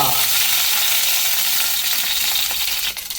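Spices spluttering loudly in hot oil for Mangalorean mussels sukka, a dense continuous crackling hiss close up, with a burst of sharper pops and a dip near the end as curry leaves go in; no talking.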